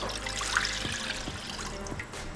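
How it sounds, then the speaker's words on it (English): Water pours steadily into a cooking pan for pancit canton noodles, a continuous close trickle and splash with a few soft clinks, no talking. "Adding the water for the pancit."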